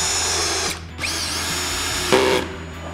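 A power drill runs in bursts during a DIY wood and metal coffee table build, its whining motor changing pitch as it spins up, slows and revs again.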